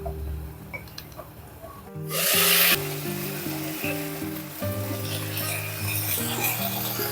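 Vegetables for polta leaf shukto fry and get stirred in a pan, a steady sizzle with scraping strokes against the metal, under a constant tonal background hum and a brief louder burst partway through.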